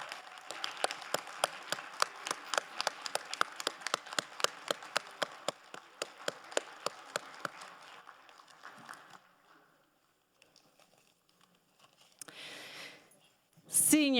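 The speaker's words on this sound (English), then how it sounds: "Let's give them a round of applause." Family and friends at a graduation ceremony applaud with steady, distinct claps for about nine seconds, then fade into near silence with faint noises before a brief louder burst at the end.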